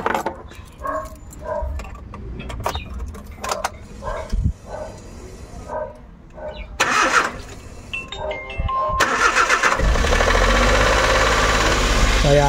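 Suzuki Every Wagon DA64W engine cranking and starting after cooling system work, with clanks and handling sounds first, then a loud steady idle rumble that holds to the end.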